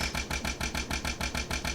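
A diesel-fuelled engine in the Minecraft Create/Clockwork mod runs with a steady, rhythmic chugging of about five even pulses per second, moderately loud, with no voices over it.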